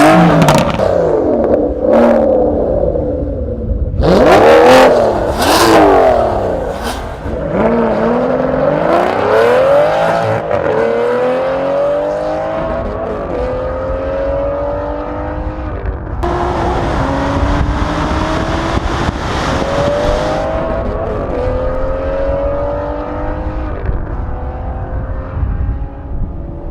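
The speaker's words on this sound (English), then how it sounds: "first up is the Mercedes AMG GTS versus the Aston Martin" A Mercedes AMG GTS and an Aston Martin GT12 accelerate hard in a half-mile drag race. Loud engines roar and climb through several gear changes, with sharp revving bursts early on and a long, sweeping pitch rise.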